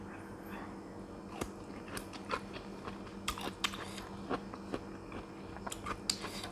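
Fresh raw pea eggplant being chewed close up, a run of crisp crunches and bites with irregular rhythm, faint and intimate with no talk.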